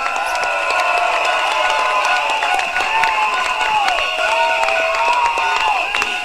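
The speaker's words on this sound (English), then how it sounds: "another round of applause for Grace Fu." A crowd claps and cheers steadily throughout at a Singapore election campaign rally, dense applause with whistles and shouts mixed in, loud and close.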